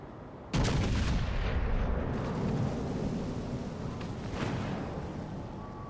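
A naval gun salvo of HE shells in World of Warships: Legends, one sudden loud boom followed by a long rumbling roar that slowly fades, with fainter distant booms later.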